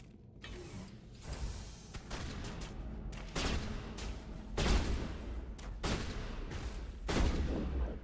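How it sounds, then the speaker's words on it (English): Gunfire from the video game Mass Effect, several loud bursts of shots at uneven intervals, layered over a dense mechanical clatter and rumble of game sound. "Are you trying to shoot through the wall?"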